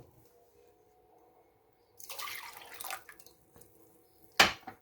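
Cider vinegar and apple juice poured for a beef brisket: a brief splashing pour of liquid, then a sharp clink, in a quiet room.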